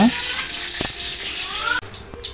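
Fish pieces fry in a pan for a tamarind fish gravy, crackling and sizzling with a few clinks and splashes as they are added, while a voice speaks over the cooking.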